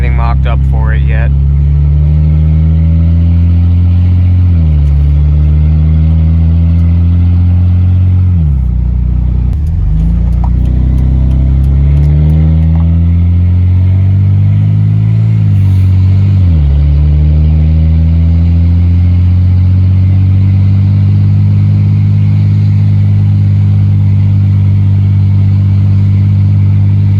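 A Ford F-150 engine with an E4OD transmission runs with no exhaust after a cylinder head swap, a loud, close, raw drone that rises and falls through several revs before settling to idle.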